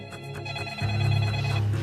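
A telephone rings with a steady electronic ringing tone that keeps going throughout, loud and close, with no voices over it.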